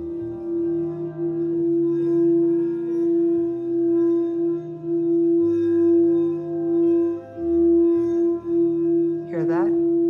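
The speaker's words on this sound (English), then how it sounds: "And this is the sound of the solar plexus key." A sustained tone in the key of E, presented as the solar plexus key, holds steadily throughout with a rich stack of harmonics, while quieter background music shifts beneath it and a short warbling chirp rises near the end.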